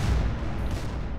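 Explosions in the video game Garry's Mod, a dense, continuous low rumble of blasts and booming fire packed into about a second, loud and without speech.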